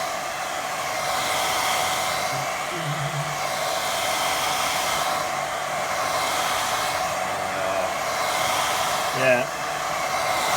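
A handheld hair dryer blows on a watercolour painting to dry it, giving a steady, close whooshing roar that holds for the whole stretch. One brief spoken word comes near the end.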